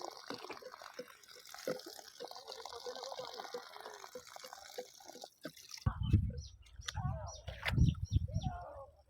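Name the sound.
water flowing slowly from a homemade pump pipe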